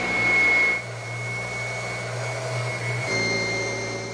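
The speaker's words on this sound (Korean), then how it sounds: "10kg이 넘는 무게의 청소기를 꾹꾹 눌러가며 문지르는 일은 제법 힘이 많이 드는 작업" A heavy dedicated mattress vacuum cleaner weighing over 10 kg drones steadily while it is pressed down and scrubbed across a mattress. A loud motor whine holds throughout, with a shift in pitch and load partway through and no talking.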